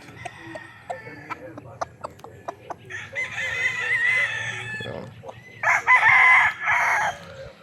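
Gamecocks crow and cluck nearby, with a run of short sharp clucks followed by two long, loud crows and more calls over a low background hum.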